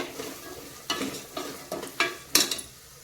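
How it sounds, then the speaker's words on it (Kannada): Slit green chillies and spices fry in a pan for North Karnataka birenji rice, giving a faint sizzle broken by several sharp stirring scrapes of rising loudness, with no voices. "ನೋಡಿ, ಇಲ್ಲಿ ಫ್ರೈ ಆಗ್ತಾ ಇದೆ."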